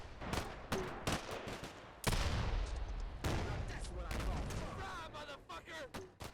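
Gunfire in the modern war game Combat Mission: Black Sea, with Stryker forces fighting BTRs: a rapid series of sharp shots and heavier rumbling blasts, dense and continuous, with a long booming stretch in the middle.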